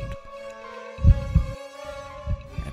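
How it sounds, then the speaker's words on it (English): Muffled heartbeat sound effect for a reading of Poe's The Tell-Tale Heart, a few deep, soft thumps in slow paired rhythm over a steady low hum. "For many minutes, the heart beat on with a muffled sound."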